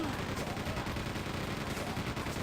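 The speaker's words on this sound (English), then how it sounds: "So let's demonstrate the Chaingun, shall we, on these guys." Rapid automatic fire from the chaingun in the Xbox 360 version of Quake 2, a dense continuous roar of shots that is loud and unbroken from start to finish.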